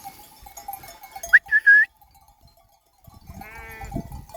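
A sheep bleats a couple of short, wavering cries nearby on a pasture, then a quieter bleat follows after a pause, with faint rustling in between.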